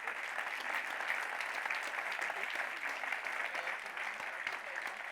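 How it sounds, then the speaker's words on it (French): Audience applause at an ecological and energy transition award ceremony, sustained steady clapping from a crowd for about five seconds, moderately loud and even throughout. "On peut vous applaudir."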